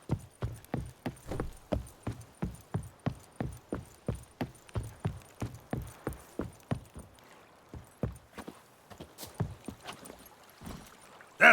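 Geralt's horse Roach from The Witcher 3 clopping along at a steady walk, hoofbeats regular and close, trailing into a looser, quieter rhythm near the end.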